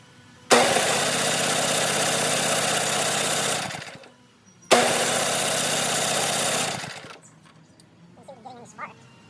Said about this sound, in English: Let's try the electric start.